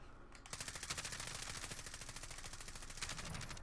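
Rapid automatic gunfire from the video game Modern Warfare rattles in a steady, dense burst lasting several seconds, a fast regular stream of shots heard alone.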